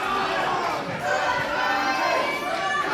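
A packed crowd at a live professional wrestling event cheers and shouts continuously, a loud, dense roar of many voices filling the arena without pause.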